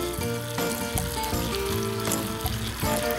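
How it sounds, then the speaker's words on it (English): Water splashed into hot caramel for a single-serving flan sizzles loudly and steadily at close range, a dense continuous crackle with sharper bursts as the cup is shaken to stir it; no voices. "a half teaspoon of water, and it's gonna sizzle like that"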